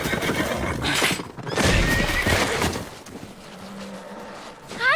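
A horse whinnies with a rising call near the end, following a loud rumbling blast and noisy commotion in a dramatic animated scene.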